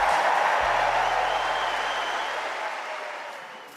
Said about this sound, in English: how about a huge round of applause for Rafa Nadal?